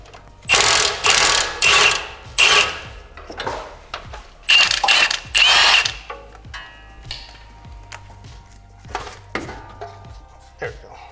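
Metal wrenching and clanking while disconnecting a coilover from an Infiniti G35 chassis, loud close bursts of ratcheting and tool clatter in uneven clusters, then lighter taps and knocks.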